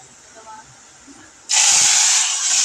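Chicken adobo hitting a hot pan, a sudden loud sustained hiss and sizzle bursting in after quiet background noise and continuing steadily.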